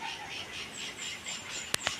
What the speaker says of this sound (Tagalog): Panay ang huni ng ibon.